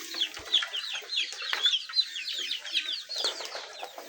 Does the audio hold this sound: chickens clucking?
yes